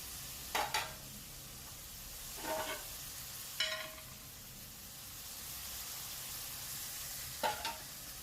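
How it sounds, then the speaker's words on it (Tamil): Turmeric sautéed in a pan over a medium flame while making a green sundakkai (turkey berry) kuzhambu: a low steady sizzle with a few short scraping stir sounds spaced apart, no talking. "மஞ்சள் போட்டு நல்லா வதக்கிக்கிறேன்"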